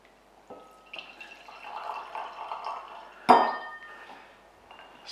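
Diluted grape juice is poured into a glass at close range with a gurgling trickle, followed by a sharp clink of glass and quieter drips.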